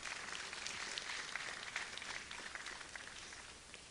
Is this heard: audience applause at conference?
yes